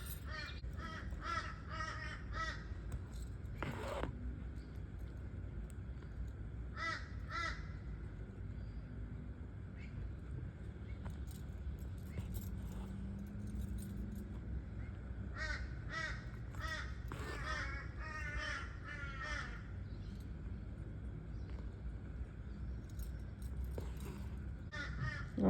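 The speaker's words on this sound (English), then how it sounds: "Oh, I'm so sorry about the crows." Crows caw repeatedly in bursts of several harsh calls from a garden, moderately near, over a steady low background rumble, with no talk.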